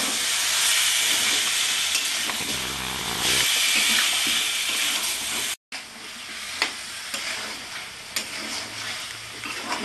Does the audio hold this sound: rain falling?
no